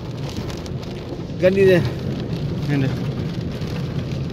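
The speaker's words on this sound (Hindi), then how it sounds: "ए बारिश है आई दी बारिश है।" Heavy rain pouring steadily during a flood, a dense constant hiss throughout, with a voice calling out briefly over it.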